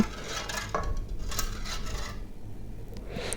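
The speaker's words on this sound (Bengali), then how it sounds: "এখন আমি এই আমের সাথে দুধের সাথে এই প্যাকেটের পাউডার ভালো করে মিশিয়ে নিব।" Mango, milk and pudding powder being stirred together in a metal vessel, light clinks and scraping rubs of the utensil against the sides in an irregular rhythm, close and fairly quiet with no one speaking.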